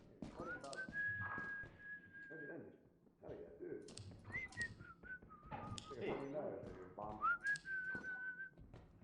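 Someone whistles a wavering tune in several long phrases in the video game Lethal Company, with clicking taps and other game sounds in the background.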